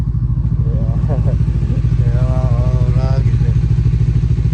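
A motorcycle engine idles steadily and loudly up close in snowy, icy Canadian weather, its low rhythmic throb continuous throughout, with faint voices in the background.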